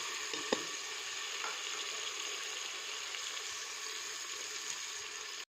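Tomatoes sizzle and fry in a pot for an aloo baingan curry cooked in a pressure cooker, giving a steady, fairly faint hiss throughout with a brief clink near the start.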